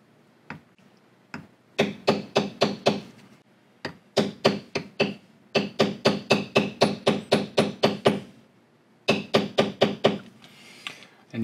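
Hand tooling of leather, beveling a basket weave pattern: crisp mallet strikes on a metal tool come in quick bursts of rapid, evenly spaced taps, separated by short pauses, close and clear.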